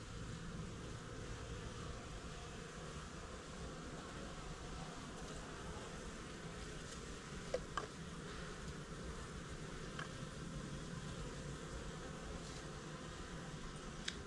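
Honeybees buzz steadily around an open hive during an Api-Bioxal trickle treatment, a faint, even hum throughout with a few small clicks and handling noises.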